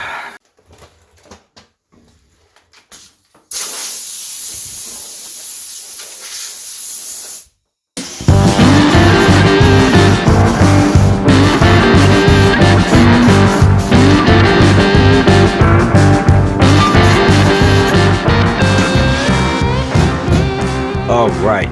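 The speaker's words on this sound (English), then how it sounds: "Now I get to grind all this down." Welds are ground down on a rusty 1957 Chevy rat rod truck: after a stretch of hissing spray, a loud, steady, harsh grinding with a ringing whine runs continuously to the end.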